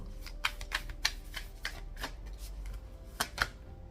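Rapid riffling bursts of tarot cards being shuffled, several quick flurries in a quiet room, close and crisp.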